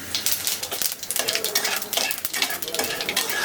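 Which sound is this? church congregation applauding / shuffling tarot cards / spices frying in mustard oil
spices frying in mustard oil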